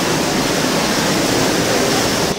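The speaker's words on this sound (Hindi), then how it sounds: "वो देखो मेरे यहाँ यहाँ तक पानी आ रहा है" Water flows loudly through Robber's Cave in Dehradun, a dense, continuous rushing roar close by that fills the whole space without a break.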